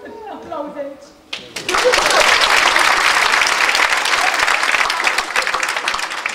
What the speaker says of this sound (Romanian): Aplauze aici!